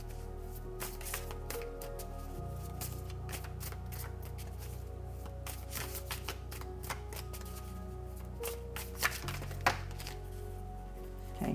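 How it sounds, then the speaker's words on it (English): Tarot cards being shuffled by hand in a steady run of dense riffling and slapping, with sharper snaps and bursts near the end, close and alone over a low steady hum. "I'm going to be quiet while I shuffle because people love to hear shuffling."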